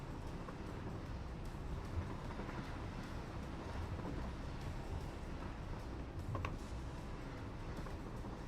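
A train rolls along steadily in the Satisfactory game, a continuous mechanical rumble of wagons with faint clicks and clatter throughout and no talk over it.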